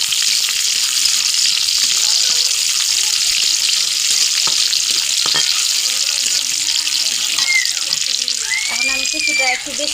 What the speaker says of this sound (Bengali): তেলটা গরম হলে প্রথমে রসুন দিব।